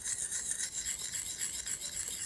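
A hatchet blade being sharpened in circular strokes, a steady rhythmic rasping scrape repeating several times a second, close and fairly quiet, with no talking.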